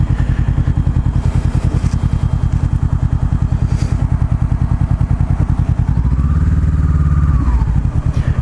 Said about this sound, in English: the FZ07 has a bit nicer of a sound. It's still a parallel twin, but the full system's M4 full system.